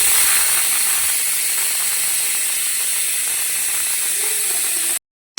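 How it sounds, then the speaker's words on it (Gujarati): A pressure cooker is opened and lets out steam in a loud, continuous hiss for about five seconds before it cuts off abruptly into silence. "હમણાં જ મેં હજી કુકર ખોલ્યું"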